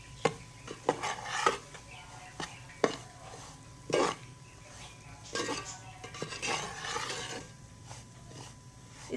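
A spoon stirs one cup of semolina roasting in hot ghee in a pan over low heat. Scattered scrapes and clinks of metal against the pan come at an uneven pace, with a quiet background.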